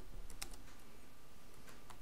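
Typing on a computer keyboard while coding a PHP loop program, with a few quick clustered keystrokes heard faintly over a steady low background hum.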